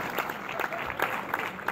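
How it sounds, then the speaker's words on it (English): A brief burst of applause from a seminar audience, dense clapping at a steady level with scattered louder claps. "Give Cleo Patrick a round of applause"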